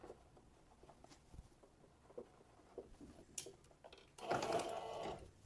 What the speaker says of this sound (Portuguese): Vou deixar uns 2 dedos e aí vou fazer uma carreirinha de costura.